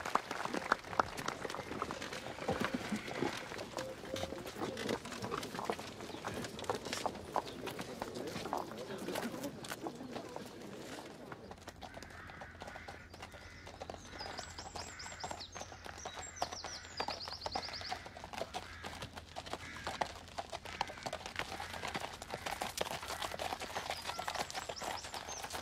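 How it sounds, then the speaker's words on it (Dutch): Horse hooves clip-clop in an irregular rhythm at moderate distance, with people talking over them and birds chirping faintly. "Zadel jij de paarden af, Gaston?"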